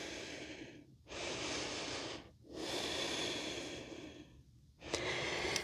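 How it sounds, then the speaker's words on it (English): Deep, slow breaths in and out through the nose during a yoga sculpt session, three long airy inhale-exhale cycles close up and fairly soft, with no talking. "Breathing deeply in and out of your nose."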